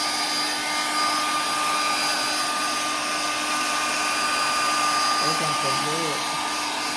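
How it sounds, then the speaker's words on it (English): Hair dryer running steadily close by for the whole stretch while someone blow-dries a pregnant woman's hair at home, with a short burst of speech near the end. "So my daughter and my husband is blow drying it for me."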